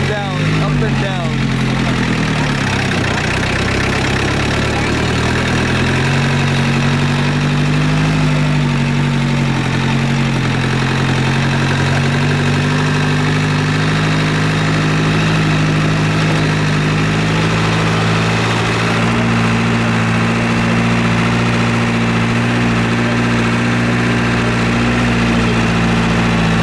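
A 4x4 vehicle's engine runs steadily near Lake Retba, Senegal, a continuous low idling drone with a slight revving change early on, close and loud throughout.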